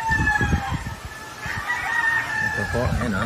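Stuart Yellow-Legged Hatch roosters and pullets on a Philippine farm crow and cluck nearby in short overlapping calls, with a soft background hum.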